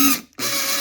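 A Makita cordless drill motor cuts out for a split second, then a short mechanical clack as the stuck chuck releases and the motor whirs on steadily.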